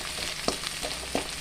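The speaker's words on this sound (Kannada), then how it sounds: "ಫ್ರೈ ಆಗ್ತಾ ಇದೆ." Two green chillies fry in a pan with onions, giving a steady, close sizzle broken by a few soft stirring clicks. No voice is heard over the frying.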